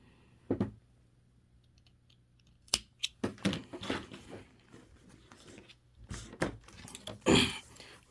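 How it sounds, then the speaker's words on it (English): Scissors snip through fabric while a duffle bag is sewn, with a few sharp, close clicks and crunches scattered among quiet handling noises, at low overall volume. "Make a snip."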